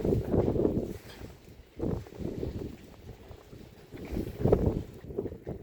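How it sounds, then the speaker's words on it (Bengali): Strong wind during heavy snowfall buffets the microphone in heavy low rumbling gusts that swell and fade, blowing snow about, with a steady blustery roar outdoors and no talking. "এত পরিমাণ বাতাস হচ্ছে, বাতাসে বাতাসে তুষার উড়া দিয়ে যাচ্ছে।"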